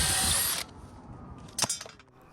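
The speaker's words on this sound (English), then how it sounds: "Move the hanger and finish drilling the hole all the way through." A power drill with a 3/8-inch bit whines loudly for half a second drilling through swing-set wood, then cuts off, followed by a few sharp clicks and clatters nearby.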